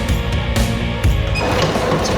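A sewing machine runs in a classroom at an alternative public school, a close, busy mechanical clatter with rapid rhythmic stitching and a few sharper knocks, continuous throughout with no talk.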